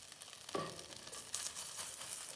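A sandwich frying in a pan, a soft, steady sizzle with light crackles and a couple of brief scraping touches, quiet and close.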